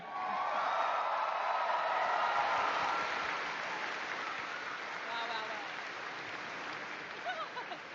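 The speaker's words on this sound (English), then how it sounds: "can we please get one more round of applause" A crowd at a Star Wars Celebration panel applauds in a steady, broad wash of clapping that holds for several seconds before slowly easing off.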